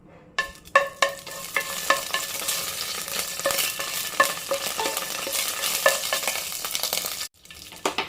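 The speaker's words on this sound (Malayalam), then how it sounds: "എണ്ണ ഒന്ന് ചൂടായി വരട്ടെ. ഇതിലേക്ക് 2 വറ്റൽ മുളക് ഇട്ട് കൊടുക്കുകയാണ്." Two dried red chillies frying in hot oil in a pan, giving a steady, fairly loud sizzle with repeated scraping taps of a stirring utensil, broken by a brief pause near the end.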